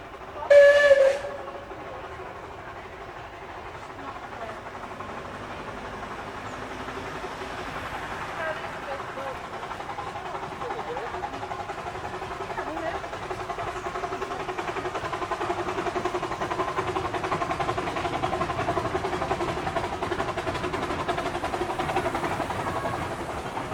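A miniature railway steam locomotive on a woodland circuit sounds a sharp short whistle, then chuffs and hisses steadily as it runs past a junction, the rhythmic working sound building slowly over a long stretch.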